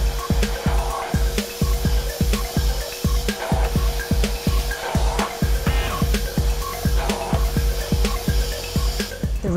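A Numatic Henry vacuum cleaner fitted with a combi tool runs over a rug, its motor whining steadily while rhythmic thumping strokes of the tool repeat back and forth throughout, close and fairly loud.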